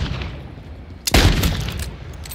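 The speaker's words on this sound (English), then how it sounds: "I'm getting shot at." One sharp, booming gunshot in a Call of Duty MW3 zombies match, cracking suddenly out of quieter ambience midway and trailing off in a rumbling echo.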